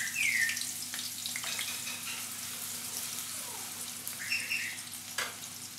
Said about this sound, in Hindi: हम प्याज सौते कर लें पहले